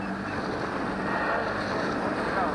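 A passing small boat's 9.9 horsepower outboard motor drones steadily on a river while fishing for shad, blended with wind buffeting the microphone and water noise.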